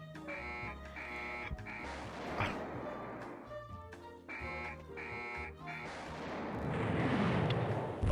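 Naval gun salvo in Rule The Waves III, a warship strategy game with auto-loading 8-inch guns: booming shots and blasts over a repeating musical soundtrack, with a heavier burst of fire near the end.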